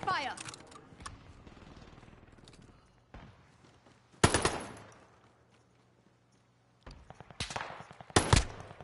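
Gunfire in Warzone as loud rapid bursts break out at several moments, with a long lull of quieter background and players talking over the action.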